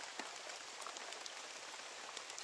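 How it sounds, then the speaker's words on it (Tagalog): Heavy rain pours steadily on a surface, a dense continuous hiss with scattered drop impacts, fairly quiet overall and free of any speech. "Sobrang lakas ka ng ulan."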